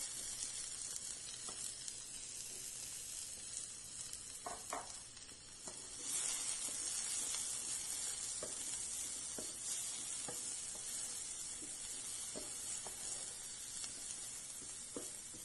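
Finely chopped onion fries in hot olive oil with a continuous soft sizzle and hiss, broken by occasional scrapes and taps of a spoon stirring in the pan.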